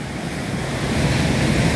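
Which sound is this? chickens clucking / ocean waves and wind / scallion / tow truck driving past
ocean waves and wind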